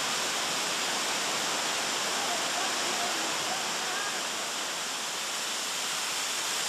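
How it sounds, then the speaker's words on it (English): Cathedral Falls, a waterfall in a West Virginia park along the Midland Trail, gives a steady, loud, close rush of falling water that stays even throughout with no other sounds. "a spectacular waterfall named Cathedral Falls"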